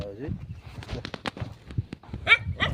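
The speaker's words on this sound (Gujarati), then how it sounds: "આ બાજુ એક કૂતરો છે." A dog barks a few times nearby on a farm amid shouting voices and scuffling footsteps.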